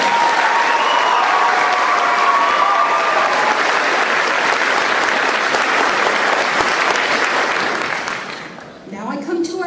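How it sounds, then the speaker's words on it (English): Sustained audience applause at a high school senior recognition ceremony honoring excellence award recipients, a dense, loud wash of many hands clapping steadily for about eight seconds before thinning out near the end. "Let's give them a round of applause."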